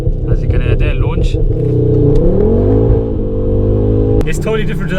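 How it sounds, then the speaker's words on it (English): Ford Focus RS Mk2 engine held on launch control, revving hard as a steady, climbing drone, then cutting off with a sharp crack near the end before the roar picks up again. "The car has got launch control too. As you can hear there, launch."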